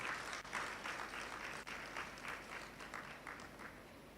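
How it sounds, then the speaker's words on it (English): A conference audience gives steady, distant applause, a dense wash of many hands clapping at an even level throughout. "Let's give them a round of applause."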